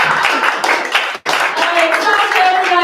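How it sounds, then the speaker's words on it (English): Audience clapping at a comedy night, a steady dense patter of hands that breaks off sharply for a moment and then resumes, with voices and some whoops mixed in. "clap for everybody"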